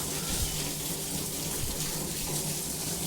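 Water rushes steadily through a pipe line after a valve is opened for cleaning solar panels, a continuous broadband hiss and gush at even loudness from start to finish.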